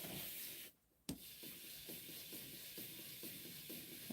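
Rubber stamps scrubbed clean on a Stampin' Up scrub pad, a steady close rubbing with a rhythmic back-and-forth scrape, broken by a short gap near the start.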